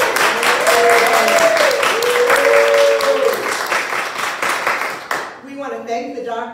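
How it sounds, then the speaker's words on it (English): Crowd applause and cheering at a ribbon cutting for a health care clinic grand opening, dense clapping that fades after about five seconds as a voice starts speaking. "Let us cheer."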